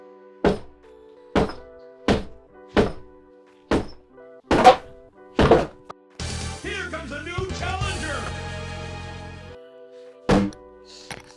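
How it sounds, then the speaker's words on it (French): A foot kicks a wooden board set on a tire sidewall to break the bead, making seven sharp, hollow thunks in a steady rhythm. A long rattling, scraping stretch follows, then one last knock near the end. "Avec notre pied et notre jambe, on va essayer de donner un coup assez fort sur le rebord afin de décoller et de faire levier."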